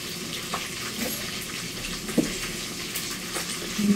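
Garlic, onion and ginger dropped into hot oil in a pan, a soft continuous crackling sizzle with a few light knocks and clinks, close and fairly quiet, no talk.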